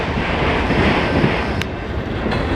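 A CSX local freight train rolls into a rail yard in Fostoria, Ohio, giving a steady, loud rumble with wheel noise and wind buffeting the microphone throughout, plus a couple of brief sharp clicks.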